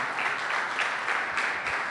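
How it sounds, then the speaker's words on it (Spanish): A church congregation claps together in a steady, full burst of applause, sustained and fairly close throughout the short moment. "Dale un fuerte aplauso al Señor."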